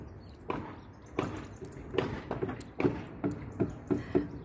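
Hammering from nearby house construction, a series of irregular knocks about every half second to second, moderately loud and somewhat distant, with no talk over it.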